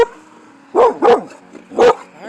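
A dog gives three distinct barks, the first two close together and a third after a short pause, close and fairly loud, with a low growl rumbling between them and no talk.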